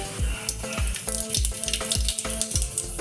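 Cumin seeds sizzle and crackle in hot oil for a ragda tempering. Hissing and popping run under a series of regular, thudding knocks about every third of a second, quite close and fairly quiet, with no talk.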